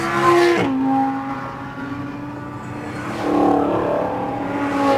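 Cars race past on a track during a Lamborghini Huracan driving session: a loud engine sweeps by early with a sharp drop in pitch, a quieter drone follows, then another car swells in and roars past.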